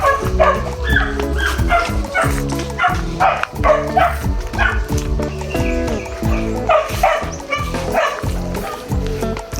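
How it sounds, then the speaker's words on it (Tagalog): Dog close by, barking, yipping and whimpering in a rapid, excited run of repeated calls, loud and continuous across the whole clip. "Ang aso na to."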